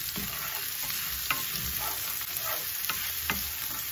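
Onions frying in a pan, sizzling steadily while a utensil scrapes and stirs them in scattered strokes, close and continuous with no talking.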